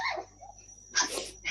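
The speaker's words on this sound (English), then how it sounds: "Is that dog on here or there?" A pet dog at home gives short yips and barks in two quick bursts separated by a pause, close and fairly loud.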